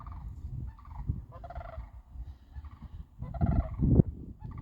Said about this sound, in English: it looks like we have swans in the air